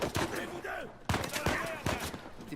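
Sniper gunfire in the Uncharted 4 video game: sharp repeated shots cutting through a busy game mix, with other voices and effects around them.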